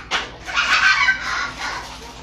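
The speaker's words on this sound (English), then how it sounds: "They see ducks," Cartoon ducks from a Peppa Pig nature-trail episode quack in a short cluster of nasal, honking calls, fairly loud and close, with no speech over them.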